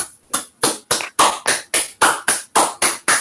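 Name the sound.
online audience applauding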